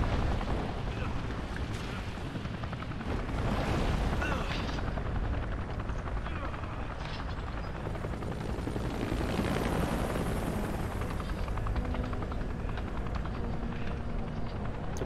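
A helicopter in the video game Resident Evil 5 roars with a dense, steady rotor and engine rumble, loud and constant, mixed with game effects and someone talking over it.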